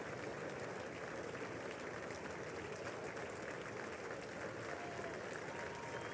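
Applause in the chamber at the 2023 State of the Union address, a continuous, distant roar of many hands clapping that stays even and fairly faint throughout.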